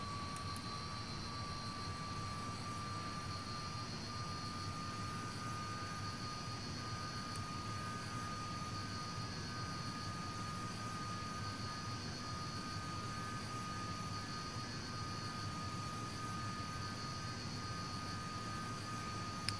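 A Comet jet airliner taxis at Heraklion airport in Flight Simulator X, giving a steady, faint jet engine whine and hum with a high tonal line. It runs continuously with no talking.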